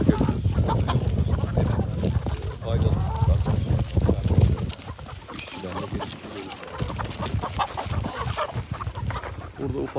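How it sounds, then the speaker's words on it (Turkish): Chickens cluck at feeding time on a dairy farm, with a steady scatter of calls that runs under nearby talk. "tavuklarımız var tabii bunlar. Yem vakti geldi büyük ihtimalle."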